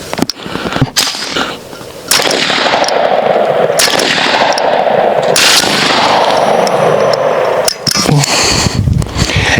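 A BinTac S45 Mini semi-auto .45 caliber airgun fires several loud, sharp cracks at uneven intervals, separated by long stretches of sustained rushing air noise, all close by and without speech.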